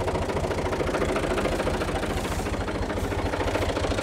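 A 1972 Fiat 500 Special tractor runs with a Dondi rotary tiller 160 cm wide, its steady low diesel chug and rhythmic knocking throb continuous and close, with no voices.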